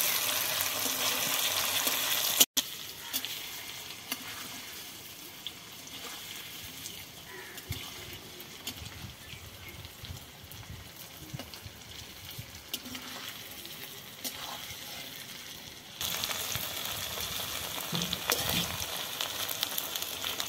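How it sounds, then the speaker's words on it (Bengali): Paneer cubes fry in a pan with a steady low sizzle that runs throughout, louder at the start and again near the end, with faint scraping in between and no talking. "লাল লাল করে ভেজে নিতে হবে পনিরগুলো।"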